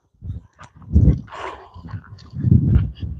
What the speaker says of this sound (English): we're gonna take a walk away from the barking dog